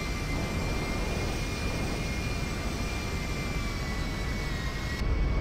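Jet airliner engines in GTA 5 hold a steady, loud roar and whine on the runway before takeoff, continuous throughout with no talk over it.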